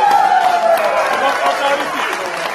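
An audience at a Dutch gala film premiere in Woerden breaks into applause, a dense burst of clapping mixed with crowd noise and a voice over it.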